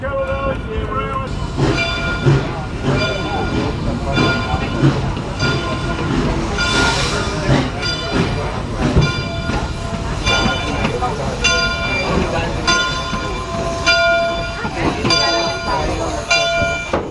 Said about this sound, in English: Thanks everyone for riding the Kettle Valley Steam Railway.